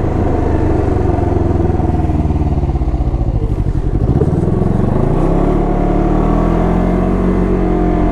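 A Can-Am Ryker 600 three-wheeler with a CVT transmission runs at barely-open light throttle, giving a loud, steady close engine drone that dips briefly and then settles into an even hum, with no voices.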